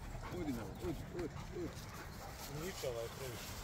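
A black dog barks in short yips and bow-wows while playing in the grass, a quick irregular series at moderate distance over outdoor background noise.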